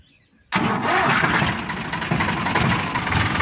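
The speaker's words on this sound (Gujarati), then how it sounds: "ટ્રેક્ટર પણ ફટાફટ ચાલુ કરીને જઈએ ખેતરમાં." After a brief quiet moment, a tractor's heavy engine cranks and catches, then settles into a loud, steady rumbling run close by.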